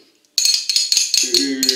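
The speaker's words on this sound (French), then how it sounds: "j'ai pris une petite cuillère, enfin une cuillère en bois pour mélanger" A wooden spoon stirs a dough mixture in a bowl for crisp fromage blanc pastries, giving a run of close scraping and knocking strokes in a steady irregular rhythm after a short silence.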